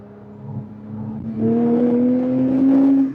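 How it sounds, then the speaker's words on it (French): A Porsche 997 GT3 engine revs up and holds a rising, droning note, growing louder partway through and sustaining the strained whine before easing off at the end. "le son du moteur, il fait ouh, ouh, ouh, ouh, ouh, ouh, ouh"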